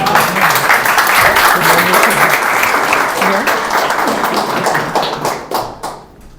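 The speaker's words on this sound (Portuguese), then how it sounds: "Salva de palmas." Seminar audience giving a round of applause, a loud, dense wash of many clapping hands sustained for several seconds before thinning out and fading at the end.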